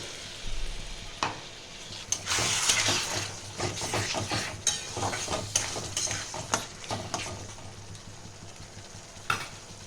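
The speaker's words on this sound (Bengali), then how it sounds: "মশলাটা ভালো করে কষাবো আমি" Ginger-garlic masala for khichuri being stirred and fried in a pan, with a steady sizzle punctuated by repeated scraping and stirring clatters from a utensil, close and moderately loud, no talking.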